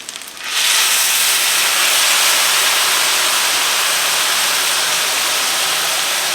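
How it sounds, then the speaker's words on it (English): A meat mixture with vegetable oil hits a hot skillet and bursts into a loud, steady sizzle after a brief quiet start, hissing continuously to the end. "Pour this all over the skillet."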